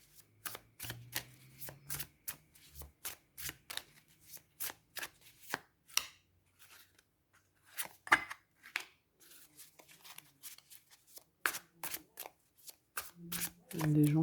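Oracle cards being shuffled by hand in a quiet room, a long run of quick crisp riffling snaps in uneven bursts, close and fairly loud, with a voice talking briefly.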